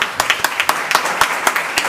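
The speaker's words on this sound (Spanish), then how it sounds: "un aplauso" Audience applause at the close of a lecture, sparse and uneven claps from a modest crowd, several sharp individual hand claps standing out near the listener.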